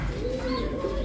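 Pigeons kept for sale coo softly and close by, a short low throaty call with a faint chirp behind it.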